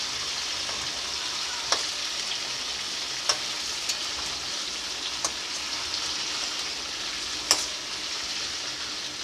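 Chicken pieces fry in hot oil with a continuous, even sizzle, broken by a handful of sharp pops and utensil clicks spread across the sizzling.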